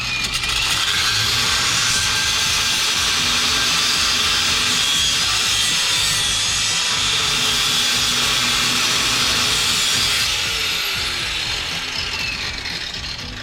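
An angle grinder cuts through a rounded-off exhaust mount on a supercharged Mini Cooper S, a loud, steady, high-pitched grinding screech that runs without pause.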